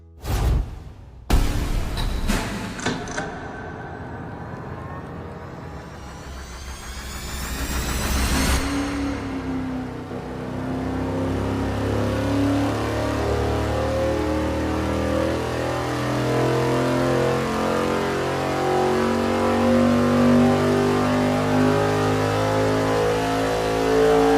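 A tuned V8 engine on a dyno with Sniper EFI, heard close and loud: a few sharp blips, then a long, sustained roaring pull that climbs steadily in pitch and stays at high power to the end.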